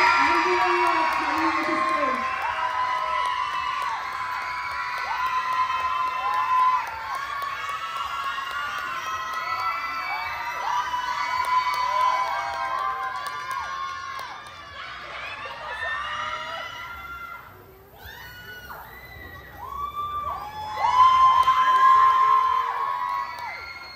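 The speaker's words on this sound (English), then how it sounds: "give a big round of applause for Ambient Light" At a varsity dance competition, a crowd cheers and whoops loudly for a dance team, with shrill shouts and excited voices rising and falling over about twenty-four seconds and a final surge near the end.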